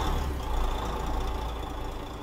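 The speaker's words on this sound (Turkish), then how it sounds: "Her zamanki gibi aracımızı çalıştıralım." A Neoplan Tourliner bus engine in Euro Truck Simulator 2 runs with a loud, close, low rumbling idle and a slightly uneven pulsing throb throughout.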